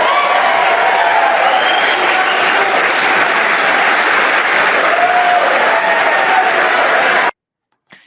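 Sustained applause with scattered cheering from a large rally crowd, dense and steady for about seven seconds before cutting off abruptly to silence.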